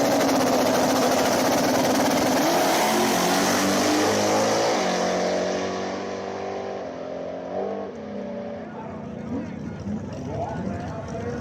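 Small-tire drag race between a Nova and a Mustang, loud roaring engines launching and accelerating away, the roar fading into distance with a voice talking over it.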